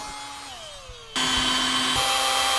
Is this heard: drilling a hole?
yes